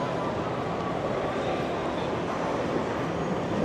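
GO trains at Toronto Union Station, a steady broad rumble of rail traffic filling the station hall, continuous and moderately loud with busy background ambience.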